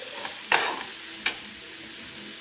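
Paneer rolls' vegetable filling cooks over medium heat in a pan, a soft steady sizzle broken by a few sharp scrapes of a spoon stirring the contents.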